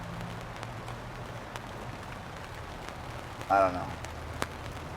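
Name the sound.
rain falling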